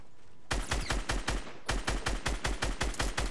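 Rapid automatic gunfire in a video game, a burst of evenly spaced shots, a brief pause, then a longer steady string of loud shots.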